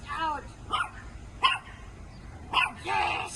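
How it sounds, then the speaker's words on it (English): A dog barks several times in short, sharp bursts spaced irregularly, close and fairly loud against a low background hum. "she waited until the dog barked 3 times"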